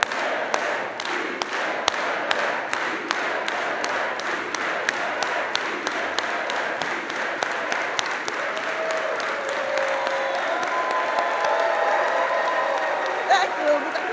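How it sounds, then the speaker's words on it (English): Crowd at a birthday celebration for Reverend James Lawson clapping in unison, a steady, evenly spaced rhythm of sharp claps repeated throughout, with voices murmuring and calling underneath. "let's do it all together with an organized hand clap"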